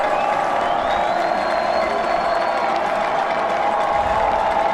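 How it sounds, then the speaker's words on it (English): A football stadium crowd at a college FCS semifinal playoff game between the James Madison Dukes and Sam Houston cheers and applauds in a loud, steady, continuous roar that fills the whole stretch. "Crowd's getting on its feet. You can start to hear them."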